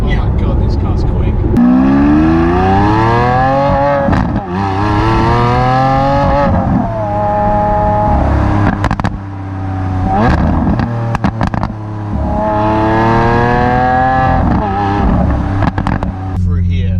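A Lamborghini Aventador S engine pulls hard through repeated rising revs, each surge climbing in pitch before dropping away at a gear change, loud and close from inside the car, with short gaps between runs.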